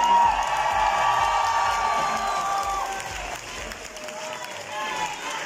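A drag show final audience in a theater applauds in a steady roar, with high whistles and whoops on top. The clapping dips midway, then swells again.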